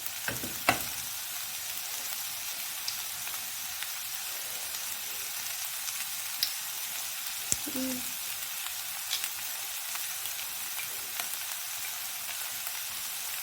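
Green chilies and spices fry in a pan for spring roll filling, giving a steady, moderately quiet sizzling hiss throughout with a few faint clicks and a single brief clatter.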